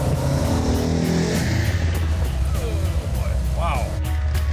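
A 1970 Challenger with a 440 Six Pack V8 and four-speed manual shifts down into second at speed, the engine note dropping and then rising again as the revs climb, with voices talking over it from inside the car.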